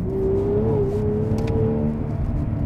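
A V12 car accelerates in second gear from 40 toward 60 mph on cold, muddy roads, a steady engine drone from inside the car that rises gently in pitch, with no talking.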